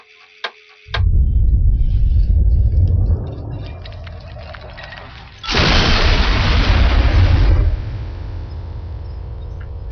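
A nuclear bomb detonates in Megaton in the game Fallout 3: after a sharp click, a loud deep rumbling blast sets in, eases, then a second massive roaring surge follows before settling into a sustained low rumble.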